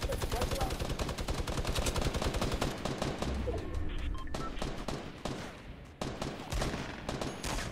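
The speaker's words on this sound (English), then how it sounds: "Quick, rifle out and start shooting." Rifle fire in the video game Fortnite rattles in a dense, continuous stream of rapid shots, loud and unbroken throughout, with bursts overlapping one another.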